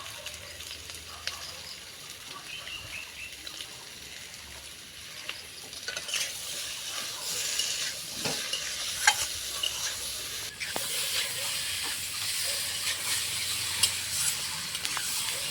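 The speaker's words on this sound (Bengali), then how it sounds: "এখন মশলার সঙ্গে আলুগুলোকে ভালোভাবে ভেজে নেব।" Potatoes frying with masala for a pabda fish curry, a low steady sizzle that grows louder and hissier partway through, with occasional utensil scrapes and knocks as they are stirred.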